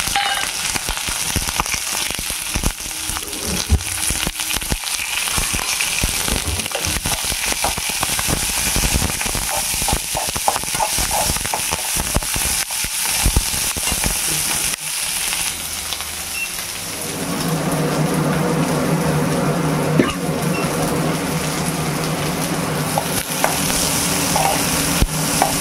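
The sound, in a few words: onion, garlic and curry leaves sautéing in a pan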